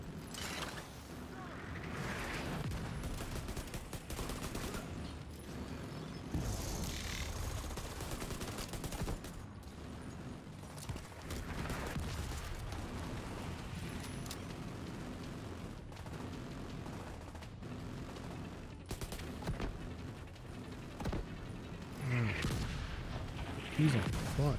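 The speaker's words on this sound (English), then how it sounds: "Can we stop with the mortar fire?" Sustained mortar and gunfire in a game, a dense, steady barrage of blasts and rattling shots throughout, with voices talking over the din.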